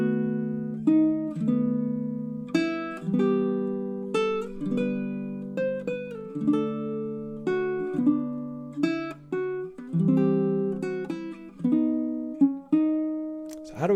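Baritone ukulele plays measures four through seven of a Greensleeves chord melody, a steady flow of plucked chords and melody notes that ring and decay in turn; close, soft and solo with no talking.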